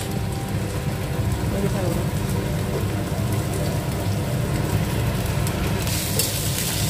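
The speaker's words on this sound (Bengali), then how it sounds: "এবার সবকিছুকে ভালো মতন একটু ভেজে নিতে হবে।" Vegetables including capsicum, chopped chilli and raw tomato frying in a pan for rava dosa, giving a steady, even sizzle throughout with a brief brighter burst near the end.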